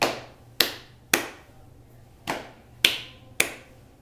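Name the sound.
slapping hands on legs then clapping twice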